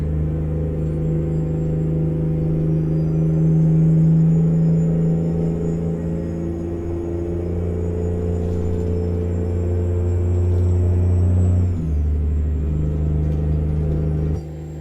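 Kenworth 521 needle nose truck with an Eaton Fuller transmission in American Truck Simulator, its diesel engine droning steadily in the cab with a pitch shift and brief dip around a gear change near the end.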